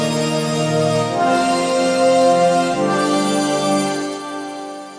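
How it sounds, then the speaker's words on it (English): Sustained synth pad from Logic Pro's Alchemy with pitch and reverb effects applied: layered shifting tones that swell over several seconds, then fade with a reverb tail, played alone with no talking. "when we put all the effects on, this pitching and reverb, sounds like this."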